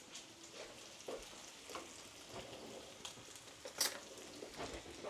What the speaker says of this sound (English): So now I'm going to add a little bit of sucralose sugar and stir this up.